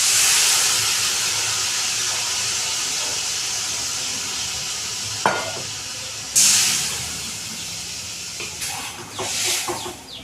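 A paste of mustard, poppy seed, garlic and four green chillies hits a hot pan with a loud, steady hiss that slowly settles, broken later by sharp bursts of sizzling and spitting, and no one speaks.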